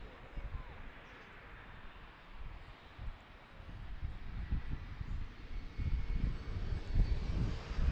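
A CRJ regional jet at Washington's DCA airport, a steady broadband engine roar that swells louder toward the end, with wind buffeting the microphone and faint voices underneath.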